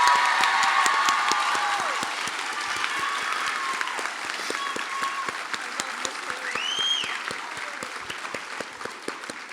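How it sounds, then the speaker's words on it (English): Graduation audience applauding retiring teachers at a school ceremony, sustained crowd clapping with occasional cheers and whistles, broad and fairly loud across the hall. "So I just want to give them a round of applause so I can thank them for their service."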